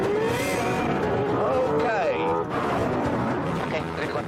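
A Lexus driven flat out at around 140 mph on a Top Gear car-versus-plane race roars loudly and continuously, its engine note sweeping upward through gear changes.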